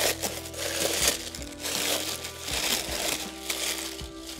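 A glass being unwrapped from old, discolored tissue paper, giving continuous close crinkling and rustling with soft scrapes and knocks as the paper is pulled away.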